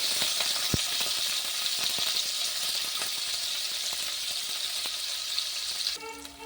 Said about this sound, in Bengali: বেশি ভাজবো না, সামান্য ভাজবো